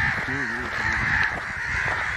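A coucal, or crow pheasant, calls during an outdoor goshawk hunt, giving a few harsh, crow-like calls near the start over steady wind and background noise, with people talking nearby.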